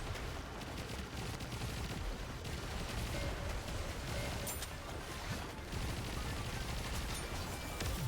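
Ship cannons fire from open gun ports in a naval battle video game, a dense, continuous rumble of booming volleys and crackling blasts that holds loud and steady throughout.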